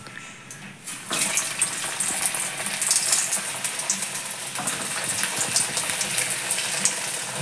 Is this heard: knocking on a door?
no